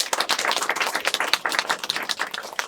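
Applause from an audience at a Ukrainian stand-up comedy show, dense and continuous clapping throughout with no voices.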